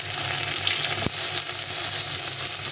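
Potatoes and taro pieces frying together in hot oil with spices, a steady close sizzle throughout with one brief sharp crackle near the middle.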